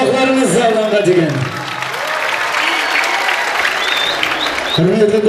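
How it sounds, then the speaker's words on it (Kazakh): An amphitheatre concert crowd claps in a dense, sustained burst of applause, with a voice speaking over it near the start and again at the end. "Қол шапалақларыңыз."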